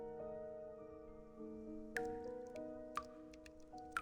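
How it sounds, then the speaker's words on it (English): Echoing water drips from a video game sound effect, a few distinct plinks spaced about a second apart over a sustained musical drone. "Sound of dripping water echoes nearby."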